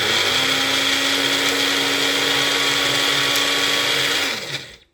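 A blender whirs steadily at high speed as it grinds dried garlic into powder, running loud and continuous for about four seconds before spinning down and stopping.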